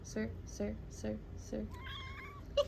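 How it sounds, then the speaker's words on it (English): A male cat meows four times in a steady rhythm, close and fairly soft, followed by a longer drawn-out vocal whine. "You grumpy kitty."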